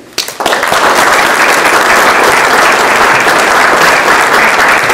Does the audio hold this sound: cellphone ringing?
no